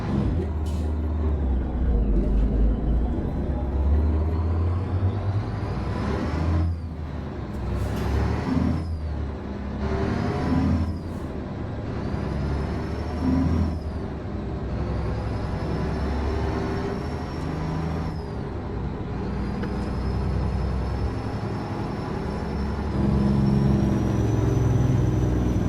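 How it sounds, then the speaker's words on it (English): Caterpillar engine fitted to a Mack truck in American Truck Simulator, a deep steady diesel drone that rises and falls through gear changes over more than twenty seconds, with air-brake hisses and no talk. "let's go check out that Caterpillar motor"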